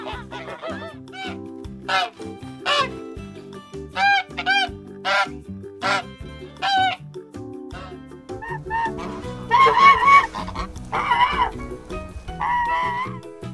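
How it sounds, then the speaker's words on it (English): A farmyard goose honks repeatedly in short, nasal, evenly spaced calls, with louder, harsher bursts toward the end, all over steady background music. "Goose."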